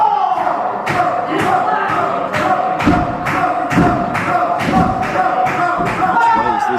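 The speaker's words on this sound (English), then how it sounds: "Crowd still chanting more." A live fight-event crowd chants in a steady rhythm, loud and echoing, with repeated thumping beats roughly every half second and a commentator voice faintly underneath.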